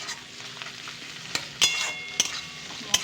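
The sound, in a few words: chopped garlic frying in a pan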